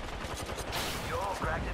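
Automatic gunfire in Apex Legends, a quick burst of close shots followed by overlapping game effects and a short rising tone, fairly loud throughout.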